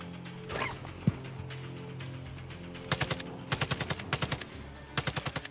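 Automatic gunfire in the video game Call of Duty DMZ, rapid bursts of loud, sharp shots in several strings with short pauses between them, following a quieter stretch with a single click.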